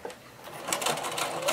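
Overlock sewing machine stitching along the edge of an old towel, a steady continuous mechanical whir with rapid needle chatter that holds at an even level throughout, with no voices.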